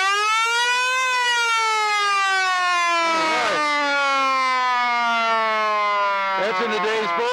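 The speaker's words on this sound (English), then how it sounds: "That's in the days, folks, when something had to spin to make a siren." A mechanical spinning siren on a classic car at an outdoor car show holds a loud, steady drawn-out wail that slowly sinks in pitch as it winds down, with brief bursts of crowd noise over it.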